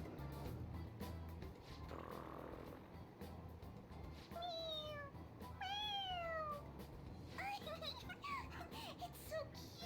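Morgana, the cat from the video game Persona 5 Royal, lets out several bright rising-and-falling meows over busy game music and background chatter, the calls bunched together in the latter half.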